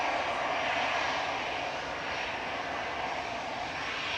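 A320 Classic airliner engines from an EasyJet flight to Faro at Manchester Airport, a steady, loud broadband roar that holds evenly throughout with no talk.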